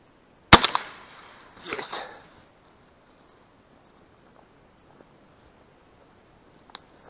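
Two shotgun shots during a duck hunt in a field: a loud close sharp blast followed about a second later by a second, slightly softer report, then quiet outdoor ambience with faint distant pops.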